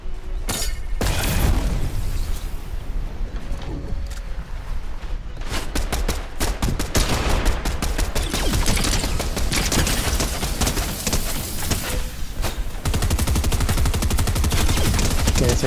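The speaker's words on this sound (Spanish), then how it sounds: "¿Quién está disparando de ese, güey?" Rapid, sustained ray-gun fire in a video game, dense repeated bursts running almost continuously and loudly, with brief pauses and booming hits mixed in.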